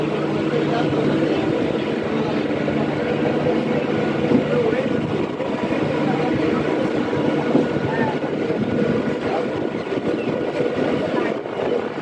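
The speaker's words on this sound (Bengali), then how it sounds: "সামনে একটা ট্রেন দেখা গেছে ট্রেন আসছে" A local train arriving at a station on the Ranaghat–Bangaon line rumbles steadily nearby with a continuous low mechanical drone, while voices talk over the noise throughout.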